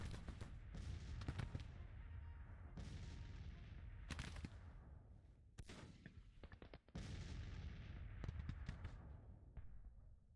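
Civil War-era 3-inch ordnance rifles fire repeatedly in a Grand Tactician battle, sharp cannon blasts with rumbling tails recurring every second or two over a dense background of distant gunfire.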